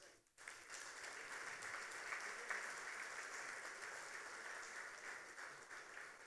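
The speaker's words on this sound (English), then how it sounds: "they are yours for the applause" Applause from the audience at an awards ceremony in Ghana starts after a short pause and continues as a steady, even wash of many clapping hands, quite distant and low in level.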